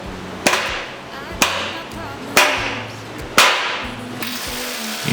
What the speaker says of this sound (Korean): 16mm 외지 앙카를 망치를 사용해 넣어주고